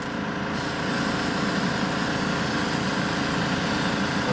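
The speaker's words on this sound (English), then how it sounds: "Mind the fan, we're going to suck up all the fumes." An extraction fan pulling away spray-paint fumes during work on a custom camouflage Batmobile model, a loud, steady whirring drone with constant low hum that runs unbroken throughout, with no voices.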